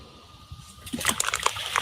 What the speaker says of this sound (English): Now look what happens when a rock is tossed into the water